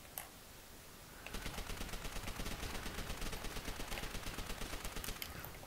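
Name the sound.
artillery fire in Call of Duty World at War video game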